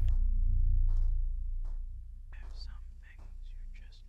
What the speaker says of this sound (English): Whispering? Do you hear what it says?